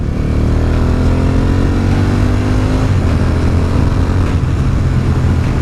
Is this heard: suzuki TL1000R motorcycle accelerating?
yes